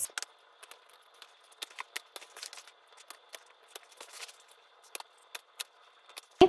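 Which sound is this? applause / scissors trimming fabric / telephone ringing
scissors trimming fabric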